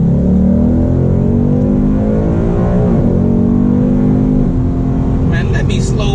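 A Ford Mustang GT 5.0 V8 engine revs loudly and close up, its harmonic roar rising and sweeping in pitch, while people talk over it.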